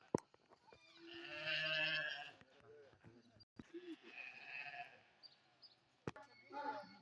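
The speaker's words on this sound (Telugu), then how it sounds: "ఇవన్నీ గొర్రెలు, ఈ గొర్రెలకు పానం లేవు, ఎడుతున్నాయి పాపం." Sheep in a zoo park in Russia bleat in a few wavering, nasal calls, one long bleat clearly up front and shorter ones later, with quiet rustling and thumps between them.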